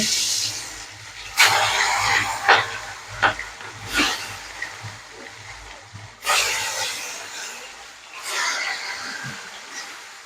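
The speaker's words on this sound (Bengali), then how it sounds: "কড়াই তেল গরম হয়ে গেছে মাছগুলো দিয়ে দিচ্ছি" Fish hit hot oil in a wok and fry with a hissing, crackling sizzle that flares in several sharp bursts as pieces go in, then settles into a softer steady fizz.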